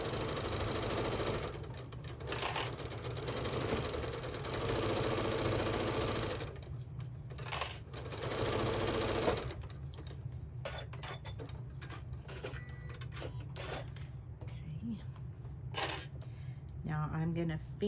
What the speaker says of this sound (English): So now I'm just going to use my 1/4 inch, and I am just going to start sewing down.